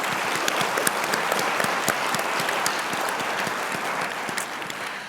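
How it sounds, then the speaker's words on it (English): Audience at a Spark of Hope 2019 event applauding its sponsors, a steady, full round of many hands clapping, fairly close and sustained with no talk over it. "Let's give them a round of applause."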